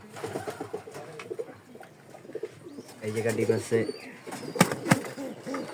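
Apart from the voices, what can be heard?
pigeons cooing on a pigeon farm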